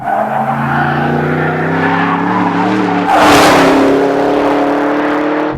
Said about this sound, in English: Crossing the start-finish line in the Camaro ZL1.